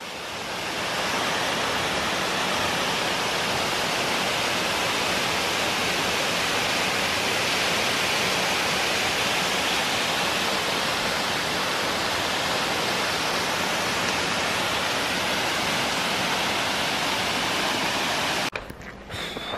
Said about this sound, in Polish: Już słychać gdzieś tam w tle szum kamieńczyka